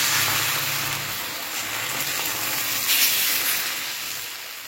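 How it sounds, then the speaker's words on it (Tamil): Batter for a rava dosa is poured onto a hot greased griddle, giving a steady, fairly loud sizzle and hiss that holds throughout without any talk. "இதில் ரவா தோசை விடுற மாதிரி விட்டால் போகிறோம்."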